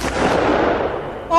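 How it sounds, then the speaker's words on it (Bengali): A revolver shot rendered as a sound effect in a Bengali audio drama, a broad, loud burst that decays over about a second, followed by a sharp tonal sound at the end. "রিভলভার গর্জে উঠল।"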